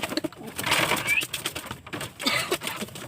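Pigeons coo in soft, throaty bursts close by, mixed with rustling, a brief chirp, and a voice speaking alongside.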